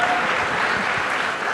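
An audience at a youth conclave in Mumbai claps throughout the short span, a dense, steady wash of applause.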